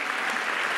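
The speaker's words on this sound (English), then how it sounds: "Let's give an applause." Steady audience applause at a Berlinale Talents event in Berlin's HAU Hebbel theatre, a continuous wash of many hands clapping with no voices above it.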